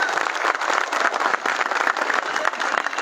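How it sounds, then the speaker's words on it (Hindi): Steady, dense applause from an audience at an Urdu poetry gathering, continuous and fairly loud for the whole span with no voices rising above it. "क्या भाई इतनी छोटी तालियां मेलोंगल में शोभा नहीं देती"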